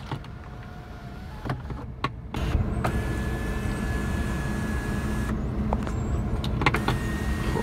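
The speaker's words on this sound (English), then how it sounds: "This is to open the panoramic moonroof." Motor of the panoramic moonroof in a 2014 Mercedes-Benz CLA 250 opening, a steady electric whine that holds for about five seconds inside the quiet cabin, with a few clicks around it and no talking.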